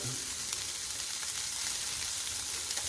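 Turkey kielbasa slices sizzle and brown in a hot pan for a stir fry, a steady close frying hiss with faint crackles throughout and no talking.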